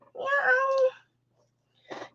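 A voice imitates a cat with one drawn-out, tonal meow, then after a short pause adds a brief, softer second meow, both close and clear.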